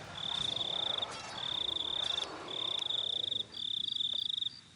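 Night ambience from the video game SpellForce: Order of Dawn, a steady high cricket-like chirring in four long repeating bursts, with a faint low ambient bed beneath and no talking.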